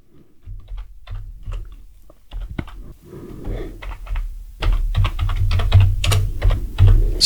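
Someone types a short command on a computer keyboard, starting with sparse, hesitant keystrokes that give way to a quicker, louder burst of clicking and clacking keys.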